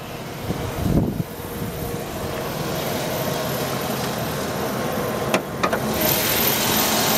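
A 2008 Chevrolet Silverado 1500 LTZ's 5.3-liter V8 idles steadily with the hood open, a low continuous rumble with a couple of brief clunks near the start and end.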